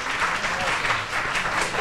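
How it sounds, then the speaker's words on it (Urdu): Studio audience at a Ramzan television transmission breaking into sustained, loud applause, a dense even clatter of many hands filling the short stretch. "وہ دیکھیں لوگ تالیاں بجا رہے ہیں آپ کے لیے"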